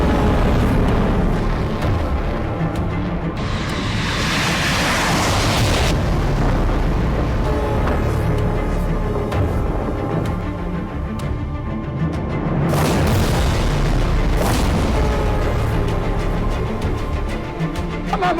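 Missile strikes in a war between Iran and Israel, with loud sustained explosion rumble and bursts, blasts swelling around the middle and again near the end, no voices.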